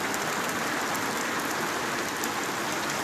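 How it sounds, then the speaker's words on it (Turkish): Heavy downpour pounds steadily outdoors in Güzelyurt, a dense, unbroken hiss of rain drumming on surfaces, loud and constant with no voices. "Müthiş bir sağanak yağış başladı var."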